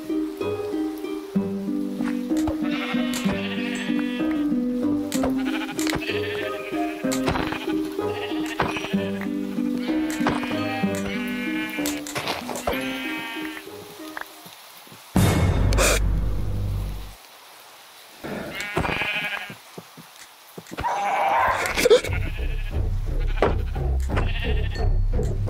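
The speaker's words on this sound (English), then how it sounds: "Sheep! Lots of sheep!" Repeated sheep bleats from a Minecraft game, several wavering calls in quick succession over a busy mix, followed by a loud low thump, a brief lull, then more rustling activity.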